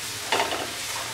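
Ginger garlic paste frying in a pan makes a brief, close hiss with a quick stirring scrape, a soft sizzle that holds steady under a short burst of motion.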